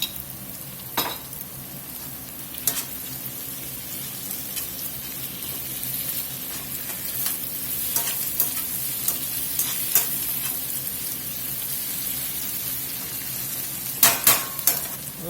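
About a tablespoon of garlic sizzles steadily in a frying pan while a utensil stirs it, with occasional scrapes and clicks against the pan over the constant close frying hiss.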